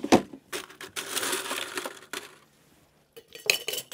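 Ice is loaded into a metal cocktail shaker tin for a whisky and maple drink: sharp clinks and a crunchy rattle, then a short pause and a few more clattering knocks close up.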